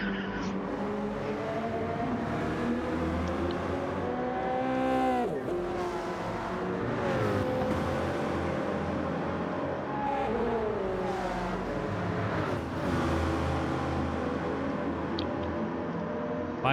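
Subaru BRZ Gr.3 race cars in Gran Turismo racing at Interlagos, engines droning steadily and loudly with rising and falling revs as several cars run close together throughout.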